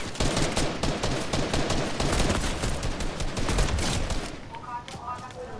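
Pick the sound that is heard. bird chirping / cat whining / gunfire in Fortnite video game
gunfire in Fortnite video game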